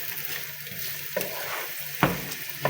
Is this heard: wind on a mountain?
no